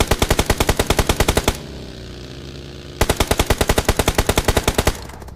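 An AKM rifle fires in full-auto in a video game, two rapid bursts of evenly spaced loud shots split by a short pause with a fading ringing tail.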